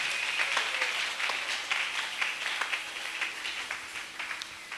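Church congregation at a Sunday worship service breaking into sustained applause with scattered claps and cheers, a dense, fairly loud roar of many hands without a pause.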